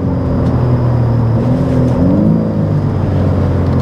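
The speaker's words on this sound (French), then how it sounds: "On entend bien quand même le 6 cylindres et à chaque passage de rapport à l'arrière," BMW M3 G80 straight-six engine and exhaust under load, loud and continuous, with pitch stepping and shifting as gears change, small pops from the rear at each shift.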